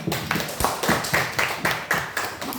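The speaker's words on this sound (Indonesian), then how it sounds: "Tepuk tangan semuanya." A school audience at a student council candidate debate claps rhythmically, steady beats about every quarter second, fairly close and lively, with no voices over it.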